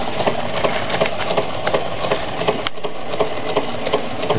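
A candle-powered Meccano Stirling engine, a model of the MK3 build, runs close up with a steady mechanical chatter and a regular rhythmic ticking from its crank and piston, loud and continuous throughout.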